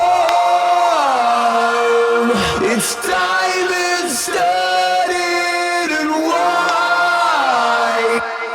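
Several loud, stacked nu-metal/metalcore chorus vocal lines sung and yelled together over a dense, distorted band mix, holding long notes that shift pitch in unison.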